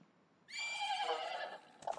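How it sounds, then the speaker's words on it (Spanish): In Zelda: Majora's Mask, a single drawn-out horse neigh rises suddenly after a moment of near silence, then a few soft hoof clops follow at the end. "¿No es ese tu caballo? Claro que lo es. Es mi caballo."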